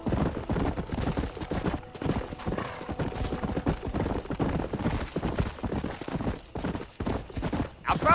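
Horse hooves gallop in the video game Red Dead Redemption, a fast, steady clip-clop rhythm close and loud throughout, with faint rattling tack and a brief snort near the end.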